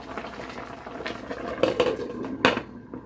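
Pork for Haitian griot simmers and bubbles steadily in a pot, with soft popping and a few sharp clinks of metal against the pan.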